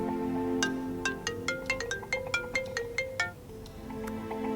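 A mobile phone rings with an incoming call, playing a bright electronic melody of about a dozen quick repeating tones that is clear and close, followed by quiet room tone.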